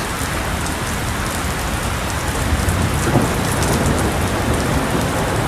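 Heavy rain pours steadily onto surfaces during a thunderstorm, loud and constant, with a low rumble of thunder rolling through partway and no voices.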